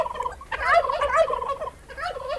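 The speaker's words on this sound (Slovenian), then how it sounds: "purane sem kupil, a niso lepi purančki." Turkeys newly bought by farmer Ivan, hauled in his cart in a Slovenian children's cartoon, gobble in a quick, warbling cluster of calls, with a brief pause before another burst. The sound is close and fairly loud.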